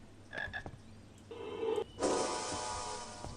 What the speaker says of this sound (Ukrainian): О. Чорна жаба.